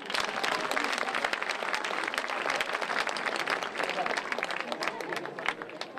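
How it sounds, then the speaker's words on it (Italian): Dense, sustained audience applause fills a theatre at a live event, steady clapping from many hands throughout with a crowd murmur underneath and no clear talk. "Fatevi un applauso."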